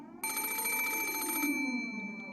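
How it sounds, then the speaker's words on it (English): An old-style telephone rings on a bedside table in the visual novel Umineko, a loud metallic bell trill lasting just over a second, followed by a soft tonal hum. "There was a phone on the bedside table across from the one with the doll. And it was ringing noisily."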